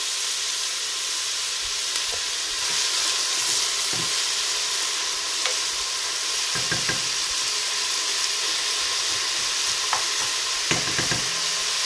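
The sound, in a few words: onions caramelizing, frying over high heat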